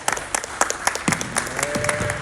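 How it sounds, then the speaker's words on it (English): A crowd applauds to welcome a guest speaker, Dr. Kaillyn Lewis, with dense, steady clapping running the whole time and a few louder claps standing out near the front. "give her a big round of applause"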